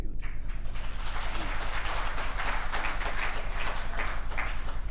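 Congregation at a prayer retreat clapping along during a sermon, loud and continuous with a strong, driving rhythmic pulse and booming low-end reverberation throughout.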